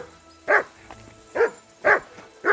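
A dog barks in the medieval game Kingdom Come Deliverance 2, four sharp close barks spaced about half a second apart, with a faint low murmur underneath.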